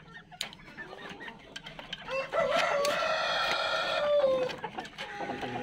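Japanese chickens and a rooster on a poultry farm cluck in scattered bursts, then a loud, sustained rooster crow rises mid-clip, with hens clucking before and after, all close to the microphone.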